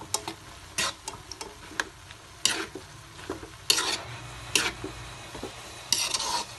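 Ground pork giniling with soy sauce being stirred in a pan, a spoon scraping and clacking in irregular strokes over a soft sizzle, close by with no talking.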